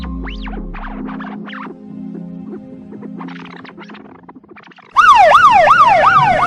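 Fire engine sirens arrive as a radio drama sound effect: after some low rumbling and background clatter, a loud wailing siren suddenly bursts in close, rising and falling repeatedly.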